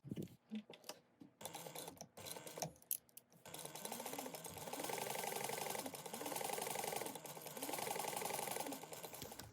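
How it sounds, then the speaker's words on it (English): A sewing machine stitches a seam along a fabric edge, preceded by a few handling clatters, then a loud steady whirring run with a rhythmic needle chatter that slows and resumes, close up with no talk. "We're going to sew this edge at a 3/8 inch seam allowance."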